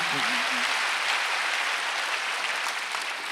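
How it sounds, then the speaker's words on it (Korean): A church congregation at a Sunday worship service claps in a dense, steady wash of applause that fills the room, with a brief voice at the start. "박수 한번 하세요"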